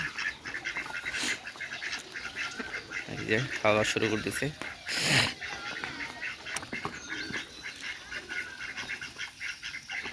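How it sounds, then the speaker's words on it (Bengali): Open-air ducks quack intermittently while eating rice and paddy, their calls scattered and moderately close beneath someone talking over them. "এই যে হাঁস চলে আসছে খাবারের জন্য"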